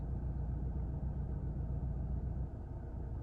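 A continuous low, rumbling artificial engine sound played inside a 2019-21 VW GLI sport sedan, steady and close, with a slight dip near the end.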